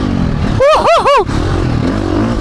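A KTM dirt bike rides through sand with a loud, continuous engine drone close by. A rider's voice whoops three times over the motor.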